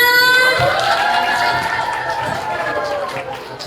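Supporters of candidate 01 at a school student-council debate cheer and shout together as a loud crowd, their voices rising sharply at the start and then thinning out over a few seconds.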